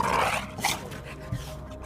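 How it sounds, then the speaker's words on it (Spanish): A dog's growl as a sound effect, a short rough snarling burst followed by lower grumbles, close and fairly loud. "de repente, escuché un gruñido de perro detrás de mí"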